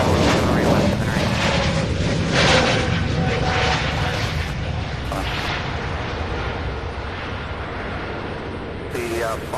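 A jet airliner takes off from a busy airport runway, its engine roar loud and steady for the whole stretch, with a radio voice talking over it.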